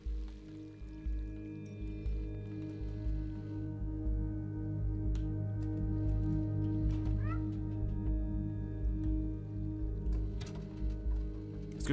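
The cat in the video game Stray meows a few times, short mews standing out over a steady ambient game soundscape with soft music and background hum.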